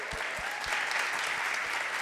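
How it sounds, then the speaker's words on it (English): Dense audience applause at a Saturday gathering fills the whole stretch, steady and fairly loud with a few heavier low thumps near the start and no voices over it. "One more round of applause."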